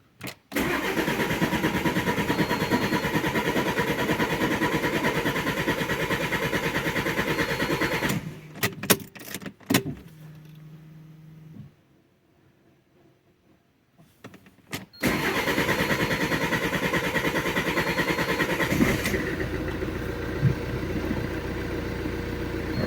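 An Alfa Romeo Giulietta 1.6 MultiJet2 diesel with a bad idle fault runs loud and close at a rough diesel idle, shuts off into near silence with clicks and a faint hum, then cranks, fires and settles back into a steady idle.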